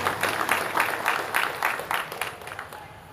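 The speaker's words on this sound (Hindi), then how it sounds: "ताली बजाएंगे।" A crowd at a Birsa Munda Jayanti celebration claps together in a steady, rhythmic beat, roughly three claps a second, holding even and fairly loud before easing off toward the end.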